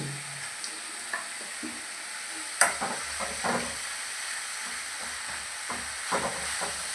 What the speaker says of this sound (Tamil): இனிமேல் கொஞ்சம் வதங்கணும்